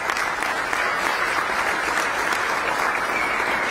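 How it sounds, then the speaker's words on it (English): An audience at a county judge's State of the County address applauds the chancellor and a university president, sustained loud clapping filling the hall evenly throughout with no speech on top. "Please give them a round of applause"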